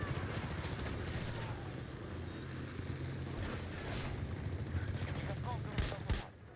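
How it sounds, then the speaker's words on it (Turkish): Pistol gunfire in the video game Battlefield 2042, sharp shots cracking out at irregular intervals over a dense, constant wash of battlefield noise, with a louder burst of shots near the end. "Tabanca zaten çoğu silahtan daha güçlü olduğu için çatır çutur vuruluyor"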